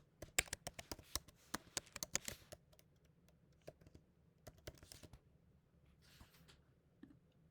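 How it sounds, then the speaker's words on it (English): Typing on a computer keyboard at close range, a quick burst of light key clicks, then a pause and a few sparser taps, quiet and without speech. "all you need to do is type in your name"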